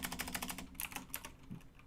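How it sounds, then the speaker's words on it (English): Rapid clicky computer keyboard keystrokes rattle in close, steady bursts with a brief pause midway, typed during a live coding stream. "I sort of regret getting a clicky keyboard because I didn't really expect to be doing a lot of live streaming with it"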